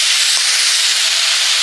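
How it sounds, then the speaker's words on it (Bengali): Water spinach (kalmi shak) fries in a pan with onion, garlic paste, green chilli, salt and turmeric. It gives a loud, steady, close hiss of sizzling that never lets up, with no voices. "কলমি শাকের ভাজাটা করে নিচ্ছি"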